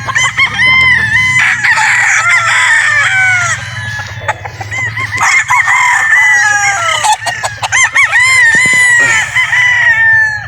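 Several gamefowl roosters, including Boston Blacks and Sweaters, crow repeatedly and loudly at close range on a farm, overlapping one another, with clucking and scattered clicks in between.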